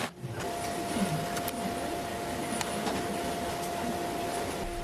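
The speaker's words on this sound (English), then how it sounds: "this is being screwed onto the original carcass, and I'm using a bunch of screws" Screws are driven through the back panel of a wall-hung cabinet into the original carcass, producing a steady, close whirring drone with faint ticks throughout, and no talking.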